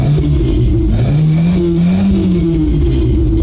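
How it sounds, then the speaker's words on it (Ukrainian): Car with a 1.8 petrol/LPG engine revving steadily through a newly fitted exhaust with a new muffler and twin tip, a loud, deep continuous drone with rising and falling pitch, up close with no talk. "Сусіди тебе з таким вихлопом любить не будуть."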